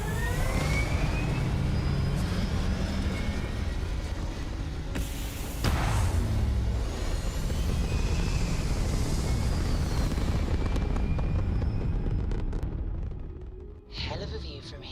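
A spaceship lifting off in the video game Starfield, a loud continuous rumbling roar of engines with a sudden surge partway through, then easing off near the end.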